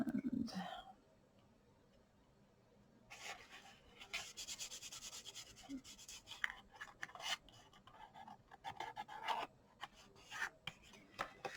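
Scraping back and forth on a Halloween craft project, soft rasping strokes in irregular bursts after a quiet stretch, close and faint, with light murmuring at the start.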